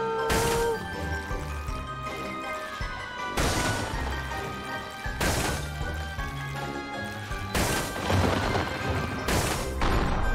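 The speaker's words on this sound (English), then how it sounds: "Explosions!" Explosions in the Pumpkin Jack video game on Nintendo Switch, set in a mine: a string of loud, crashing blasts bursting one after another at irregular intervals over a steady rumbling game backdrop.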